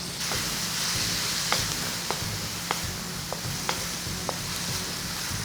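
Cabbage stir-fries in a hot pan with soy sauce and fish sauce for pancit canton. It gives a steady bright sizzle, and sharp clicks of a utensil against the pan come at irregular intervals.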